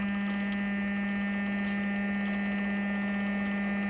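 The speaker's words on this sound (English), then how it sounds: "I'm going to turn on the motor, and hopefully material will come out." A silver filament extruder motor runs with a steady, unbroken electric hum at moderate volume and no other sounds.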